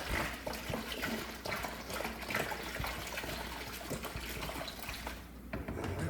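Vinegar poured from a gallon jug into a sump pump pit, a continuous splashing, gurgling liquid stream, close and steady for several seconds with no talking.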